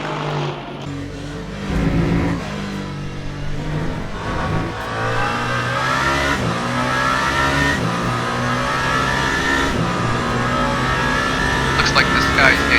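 The Alpine race car in Le Mans Ultimate roars through the Porsche Curves, its engine revving and shifting in rising and falling pitch sweeps, loud and continuous beneath a commentator talking.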